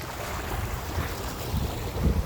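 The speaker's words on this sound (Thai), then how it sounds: "เสียงคลื่นซัด" Steady rushing sea surf driven by strong wind, with wind buffeting the microphone, low rumbling swells rising and falling under a constant hiss.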